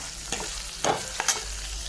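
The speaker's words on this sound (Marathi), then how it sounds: "सर्व काही पनीर कट करून घेतलं आहे आणि आता आहे ना त्याला थोडंसं फ्राय करून घ्यायचं आहे आपल्याला" Paneer pieces frying in oil, a close sizzle broken by a few sharp spatula scrapes and clinks against the pan.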